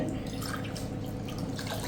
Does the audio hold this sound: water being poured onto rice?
yes